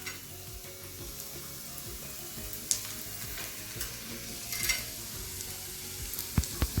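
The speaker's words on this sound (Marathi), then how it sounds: "आपण जे उरलेला जो मसाला आहे ताटामधला तो सगळा आपण एक करून थोडासा आपण कांद्यामध्ये मिक्स करून थोडंसं हलकं फ्राय करून घेतोय आपण" Khada masala spices and onion frying and being stirred in a pan at home: a steady close sizzle with scraping stirs and a few sharper pops, with no talking.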